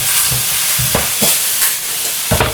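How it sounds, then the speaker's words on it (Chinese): Freshly salted, still-moist bitter melon is stir-fried in plenty of hot oil over high heat, giving a loud, close sizzle with rhythmic scraping spatula strokes tossing the pieces, no voices. "倒入苦瓜，开大油呢，快速翻炒"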